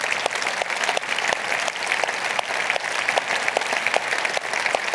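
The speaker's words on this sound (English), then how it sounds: "I'd like to recognize and give you a round of applause." A crowd at a city's annual State of the City address gives city employees a round of applause, loud, dense clapping with sharp individual claps that carries on steadily from start to finish.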